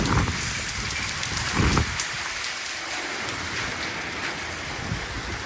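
Steady rain falls on a farm, a dense continuous hiss of drops hitting surfaces, close and moderately loud, with a few heavier splashes early on.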